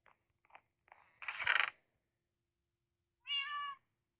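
A cat in the video game Minecraft gives one clear, bright meow near the end, after a few soft clicks and a short metallic clinking rattle, with no voices.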